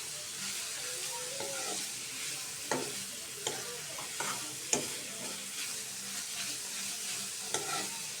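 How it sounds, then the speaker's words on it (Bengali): Egg being stirred with spring onion stalks in a frying pan, a steady bright sizzle with scattered scraping clicks of the utensil against the pan, close and continuous with no talking. "ভালো করে মিক্স করে নিচ্ছি পেঁয়াজের কলির সাথে ডিম।"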